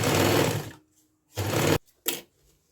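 An electric sewing machine stitching the edges of a fabric bag together in three short bursts, the first the longest, separated by near silence, close and clear.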